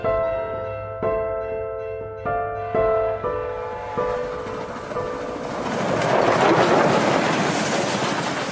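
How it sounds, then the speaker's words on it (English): A Golden Eagle luxury train hauled by a P-36 class steam locomotive in Russia sounds several loud repeated horn or whistle blasts, then a rising rush and clatter of the moving train. "Golden Eagle luxury trains operate the only privately owned steam locomotive in Russia"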